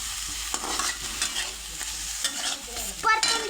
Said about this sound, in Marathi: परतून घ्यायचं असं.